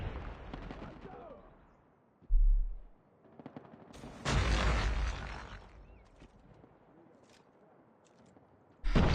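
LMG Chopper gunfire in the COD Mobile video game: a few short, sharp bursts of automatic fire separated by quieter stretches, with a final burst at the very end, under faint background game sound.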